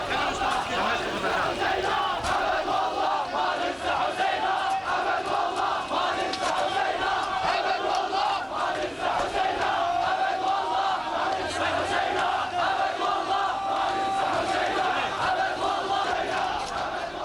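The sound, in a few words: Iraqi crowd chanting against Saddam Hussein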